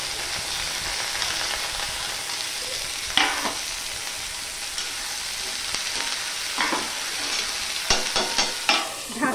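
Potatoes frying with onions in a pan give off a steady, close sizzle, broken by a few louder bursts as a utensil stirs and scrapes through the pan, with no voices.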